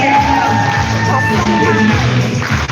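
A loud crowd at a forum in Dagestan cheers, with shouts, whoops and yells over a dense roar of voices that stays strong throughout.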